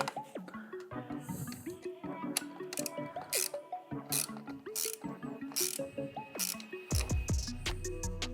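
A hand ratchet tightens the mounting bolts while a light is fitted to a Honda Goldwing motorcycle, giving rapid close clicking bursts in repeated strokes with brief pauses between them.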